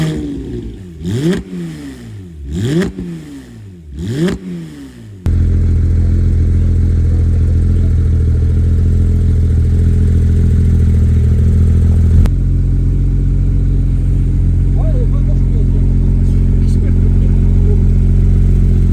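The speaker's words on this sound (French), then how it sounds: "Et tu vas voir que le son du flat 6." Flat-six engine of a GT3 car with a manual gearbox, revving hard in three rising sweeps and then holding a loud, steady roar while cruising down a straight road at about 90 km/h, heard close from inside the car.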